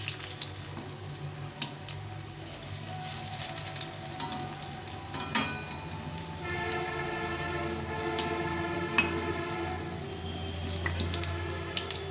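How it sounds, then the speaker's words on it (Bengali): Coriander leaf fritters fry in a pan of hot oil, a steady close sizzle with scattered pops and crackles that grows slightly denser partway through. "এক সাইডে ভাজা হয়ে গেছে, এখন একটু উল্টে দেবো।"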